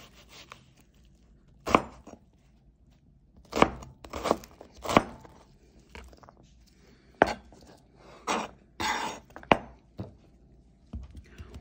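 A knife chops onion on a cutting board in a series of distinct, sharp thuds, irregularly spaced and close, with quiet pauses between strokes and no talking.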